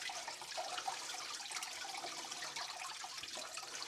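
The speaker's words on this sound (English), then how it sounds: "You actually pour the water directly into your lily pipe" Water is poured by hand into a lily pipe outlet in a home aquarium during a water change, giving a steady, close splashing and trickling rush that runs unbroken throughout with no voices.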